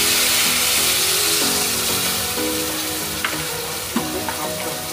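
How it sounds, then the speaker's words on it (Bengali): Masala for doi katla fish sizzling in a pan as milk is added; loud, continuous frying hiss with a few light stirring clicks and taps near the end. "এবার আমরা এর ভেতরে অ্যাড করব 1 কাপ দুধ।"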